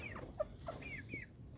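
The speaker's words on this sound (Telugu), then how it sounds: "ఇవి పెద్ద వరుస కోళ్ళు, ఊరు కోళ్ళు ఉన్నాయి" Chickens on a home flock, a mix of large breed fowl and village country hens, clucking in several short calls and rising chirps over steady background hum, moderately close.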